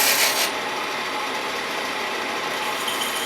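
A woodturning tool scrapes and rasps against a spinning wooden box, shaping a taper in a loud, steady rub that starts with a brighter burst.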